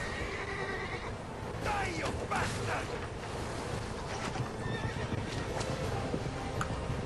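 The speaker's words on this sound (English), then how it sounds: "Faster, horses!" Horses neigh and whinny over galloping hooves in Assassin's Creed Revelations, a loud, continuous chase soundscape with game sounds and voices talking over it.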